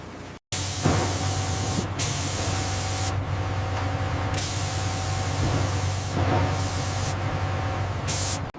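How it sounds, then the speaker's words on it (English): Spray painting an aircraft carrier's flight deck with non-slip dark charcoal paint: a loud, steady hiss of spraying that runs almost without pause, with several brief bright bursts of air spaced through it. "Workers are painting the flight deck with a fresh coat of non-slip dark charcoal paint."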